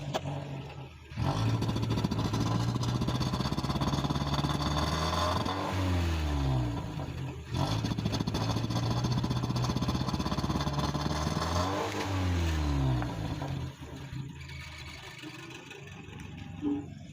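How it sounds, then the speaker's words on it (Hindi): A Toyota Corolla engine with a misfire and poor acceleration revs up and drops back twice, with a rough, uneven running note and clattering. It sounds close and loud, and no one speaks. "अभी आपको मैं दिखाता हूँ कि किस तरह से मिसफायर करती है गाड़ी।"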